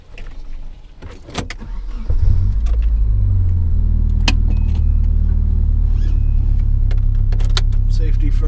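A Nissan 240SX, freshly fitted with a knock sensor bypass, sets off on its first drive, its engine rumbling low and steady after a couple of clicks and small rattles at the start.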